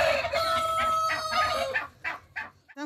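A turkey in a henhouse lets out a loud, close, drawn-out gobbling call, followed by several shorter bursts with brief gaps between them.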